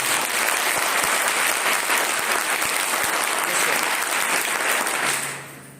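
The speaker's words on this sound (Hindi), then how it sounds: "जितने लोग तीसरे इस ऑप्शन को एक्सेप्ट करते हैं वो मेरे साथ जबरदस्त तालियां बजा सकते हैं" Loud, dense clapping from an audience at an education seminar carries on steadily for several seconds before fading away near the end.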